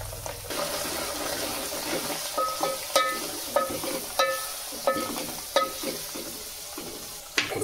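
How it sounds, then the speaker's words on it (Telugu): Onions and ginger fry in a pan for mutton curry. Steady sizzling sits under a run of sharp, regular scrapes and clinks from a spoon stirring against the pan, close and fairly loud, with no talking. "బ్రౌన్ కలర్ వచ్చేదాకా వేయించుకుందాం."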